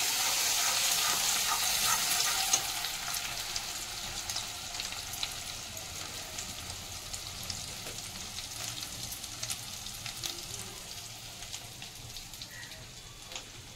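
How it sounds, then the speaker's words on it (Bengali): Ginger and chili spice paste fries in a pan for an aloo jeera, a continuous close hiss and crackle of sizzling that eases slightly after the first couple of seconds and holds steady. "এবার আমি মশলাটা ভালো করে ভাজবো।"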